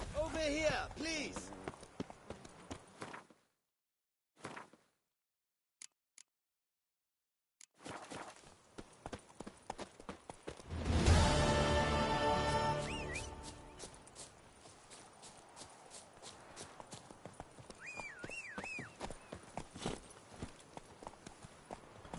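Horse hooves clip-clopping in the video game The Witcher 3, rhythmic galloping and trotting steps that swell loud in the middle, with game voices talking over parts and a few silent gaps.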